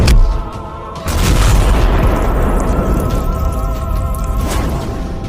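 A loud, deep boom as a cartoon car bursts into flames, followed by a sustained roaring rumble of fire with a brief pop at the start.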